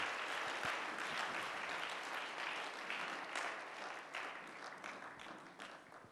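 A church congregation applauds during a special night vigil, giving a dense, sustained round of clapping that holds steady and then slowly thins toward the end.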